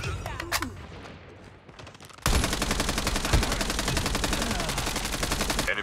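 Sustained rapid automatic fire from a hostile sentry gun in the Call of Duty Mobile multiplayer game, starting after a quieter stretch of scattered shots and continuing loud and unbroken to the end.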